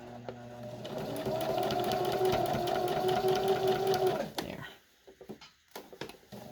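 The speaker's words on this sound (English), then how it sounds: "I'm going to push very slowly on my foot pedal, and I'm going to be pulling on this fabric so that it's very controlled as I'm moving it through the machine" A sewing machine stitches fabric for a hospital mask, run slowly by foot pedal, with a steady close mechanical hum for about four seconds that then stops, leaving a few soft handling clicks.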